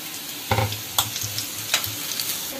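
Cauliflower bonda deep-frying in hot oil, a steady close sizzle and bubbling with a few stirring clinks and splashes as the fritters cook.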